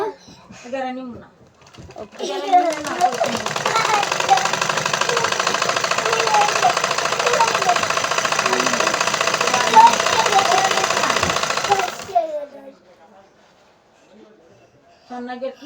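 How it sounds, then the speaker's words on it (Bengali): A sewing machine runs for about ten seconds in a rapid, steady mechanical chatter while a tailor stitches a dress, with voices talking briefly before and after the run. "মেশিন যতক্ষণ ভালো থাকে তখন চালাইতে খুবই মজা লাগে"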